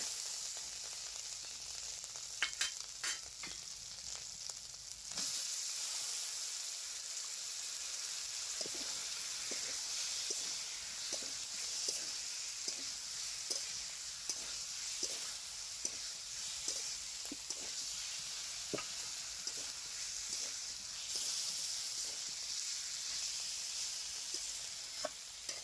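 Bottle gourd and egg fry together in a pan with a steady, close sizzle and hiss that runs throughout, broken by faint scattered stirring clicks.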